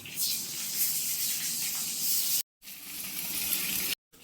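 Eggplant fries in mustard oil with nigella seeds for a Bengali hilsa meal, giving a steady broad sizzle with two brief dead gaps. Faint voices sit low under the hiss.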